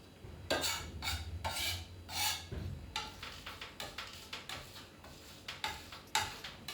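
A knife blade scraped and pressed repeatedly over garlic on a cutting board to mash it into a fine paste, producing close, rhythmic rasping strokes that settle into a steady series of short scrapes.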